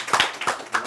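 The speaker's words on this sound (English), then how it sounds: "Let's give a big round of applause." Audience at a live-streamed bhajan and lecture gathering giving a round of applause, a few light, sparse claps heard briefly and fairly close.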